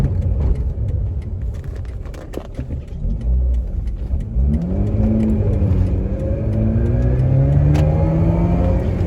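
A 2005 Mazda RX-8 rotary engine revs up hard toward redline, its pitch climbing steadily and holding high, loud and close over road and wind noise.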